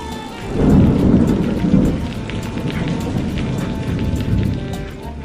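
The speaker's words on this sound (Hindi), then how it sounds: "कुछ ही देर में तेज बारिश भी शुरू हो गई।" Heavy rain pours steadily on a night-time hut with rumbling thunder, a dense, continuous wash that swells early and keeps going evenly, with no voices.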